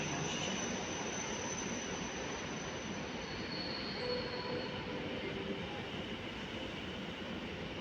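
An Intercity train idles at platform three of Kraków Główny station with a steady rumbling hum and faint high-pitched wheel squeals, continuous throughout with no voices.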